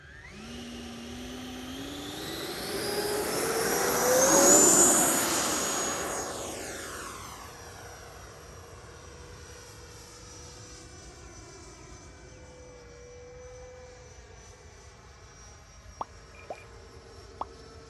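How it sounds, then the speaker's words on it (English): E-flite Viper 90mm electric ducted-fan RC jet taking off and flying, a rising whine and rush that swells loud as it passes close, then fades into a distant, steady hum with a few sharp clicks at the end. "So now let's get the plane up in the air and see how this Viper 90mm performs."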